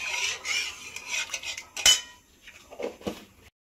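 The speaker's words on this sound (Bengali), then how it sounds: "দিয়ে দিচ্ছি সামান্য পরিমাণে হলুদের গুঁড়ো, নিয়ে নাড়াচাড়া করে নিচ্ছি ভালো করে" A spoon stirring turmeric powder into beulir dal in a metal pot, close clinks and scrapes against the pot sides in short irregular bursts with a sharper knock midway, no voices.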